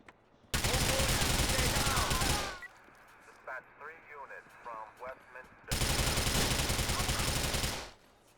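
Cyberpunk 2077 video game gunfire: two long, loud sustained bursts of rapid automatic fire separated by a gap where someone speaks.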